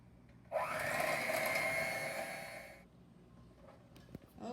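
An electric hand mixer beats instant chocolate pudding mix with milk in a kitchen, a loud steady whirring drone lasting a few seconds before cutting off, followed by faint handling noises.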